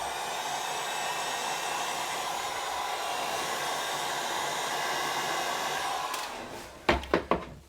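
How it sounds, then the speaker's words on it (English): A heat gun blows hot air onto a snowboard edge during a repair, a steady loud whooshing hiss that runs unbroken for about six seconds before cutting off, followed by a few sharp knocks. "Bit more heat gun action."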